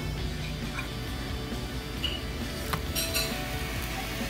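Metal utensils clink against a skillet and dishes while a cheese quesadilla with Gouda and Fiesta blend goes into the pan to brown, a few light close taps and chinks over steady kitchen background noise.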